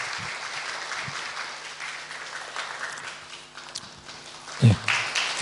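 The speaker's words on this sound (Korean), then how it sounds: "우리 함께 박수로 환영해 주시기 바랍니다." Church congregation applauding during an Easter Sunday service, a steady spread of many hands clapping at medium distance with a few louder nearby claps and shuffling toward the end.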